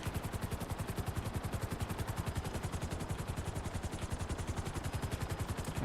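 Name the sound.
explosive sniper gunfire in GTA video game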